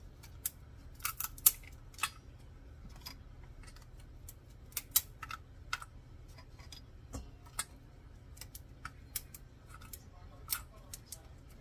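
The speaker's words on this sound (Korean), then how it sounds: "이렇게 엄지 부분은 가위로 잘라주시고 여기도 한번 이 가위로 잘라주세요" Kitchen scissors snip through the thumb section of blue crab claws: a scattering of crisp, sharp clicks and crunches at an uneven pace, fairly close but quiet, over a low steady hum.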